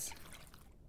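Water is poured and stirred into tamarind while cooking in the game Venba, a soft brief dripping and splashing that fades out, quiet and alone.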